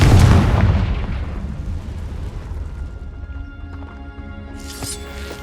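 Explosive spell blasts from Bombarda and Confringo in Hogwarts Legacy, a loud booming burst up front that rumbles and decays over several seconds, with a sharper crack near the end.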